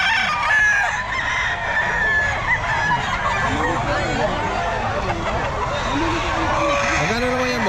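A Sweater Gilmore gamefowl rooster crows loudly and repeatedly at a busy pet market, its calls rising over crowd babble and nearby voices.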